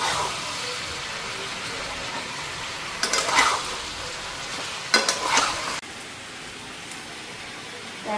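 Spice paste frying with tomato and onion in a pan, a steady close sizzle with two brief bursts of stirring and scraping in the middle before the frying settles back down.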